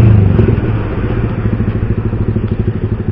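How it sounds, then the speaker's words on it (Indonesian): A motorcycle exhaust fitted with a dB killer, the engine rumbling close and loud with a pulsing, throbbing beat and slight revving through a few seconds, no voices over it. "Suara knalpotnya tetap bulat,"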